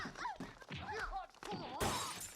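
Glass shattering in a staged fight scene, one sharp bright crash near the end following a stretch of grunts, yelps and other vocal noise, fairly close and loud.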